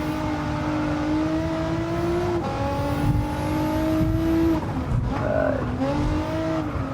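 A race car in Gran Turismo 7 brakes hard on a Tokyo circuit, engine tone dropping through gear changes while tires squeal briefly, loud and steady with no speech.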